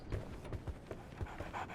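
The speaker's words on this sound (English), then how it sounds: "So, Barnes has a dog now." A dog pants in the Sherlock Holmes The Awakened video game, giving quick, rhythmic huffing breaths at a steady pace over a soft background hum, fairly faint and alone.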